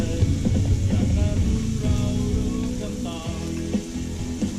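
Pork sizzles steadily on a Thai mookata grill pan at a tent campsite in northern Thailand, a continuous crackling hiss with low voices murmuring underneath.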